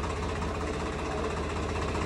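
A Swaraj 855 tractor engine runs close by with a steady, loud, knocking diesel throb that stays constant throughout, no voices over it.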